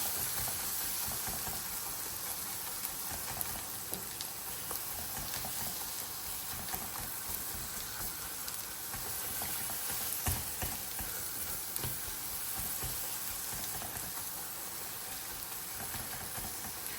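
Kerala-style masala for pearl spot fish sautéing in a pan, a steady close sizzle and fry hiss running throughout with faint scraping of stirring and no talk.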